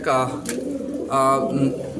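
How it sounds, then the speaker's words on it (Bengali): Pigeons coo in soft, throaty bursts close by, a pair of rolling calls separated by a short pause. "এই ককা ডাকও দেখাই দিলাম"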